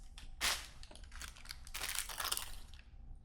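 Crisps being crunched and rustled up close: crackly crinkling bursts and crunches in an irregular run, loudest near the start and again toward the end, over a low background hum.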